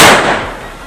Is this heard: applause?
no